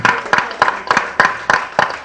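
Rhythmic clapping at a book launch and art opening: about seven evenly spaced loud claps that sound like a small group clapping in unison, close and with no talk.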